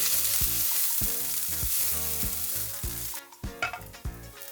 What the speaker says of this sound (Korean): 갓빠은 향신료를 팬에 넣고 수분을 날리면서 살짝만 볶아주세요